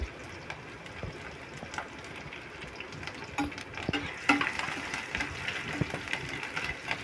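Chopped onion and green chilli fry in a pan with a soft, steady sizzle, broken by light clinks and scrapes of stirring, fairly quiet and close.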